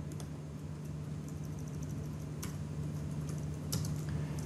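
Someone types on a computer keyboard while coding, a light patter of soft key clicks under a steady low hum, with a few sharper isolated taps standing out.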